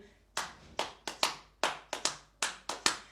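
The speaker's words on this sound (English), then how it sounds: "Clap your hands in front of you." Hands clap in front of the body during a children's music group's action song in a natural history gallery, about ten sharp, close claps in a steady, slightly uneven rhythm with no other sound between them.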